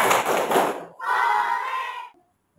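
Schoolchildren in a classroom clap a quick patterned cheer together, a loud burst of hand claps followed by a sustained group shout that cuts off abruptly.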